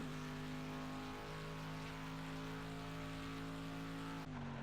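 A race car engine in Project Cars at Silverstone holds high revs near the rev limiter. The whine is steady and loud with a sustained harmonic tone, then drops abruptly near the end as the revs fall.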